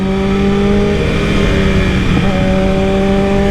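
Acura car engine revving, a loud sustained droning engine note with steady harmonic whine, held near and constant with a slight shift midway, no voices.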